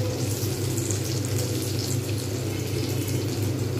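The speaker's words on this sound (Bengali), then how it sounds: "ধীরে ধীরে কিন্তু সুন্দরভাবে ভাজতে হবে" Green banana kebabs with an egg coating fry in a pan with oil, giving a continuous, even, close sizzle that holds steady throughout with no talking.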